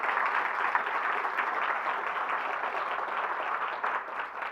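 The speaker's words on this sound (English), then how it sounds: "let's give him a round of applause for that" A room of attendees at a Martin Luther King Jr. memorial breakfast gives sustained applause, a loud, dense, even roar of many hands clapping at once with no talking.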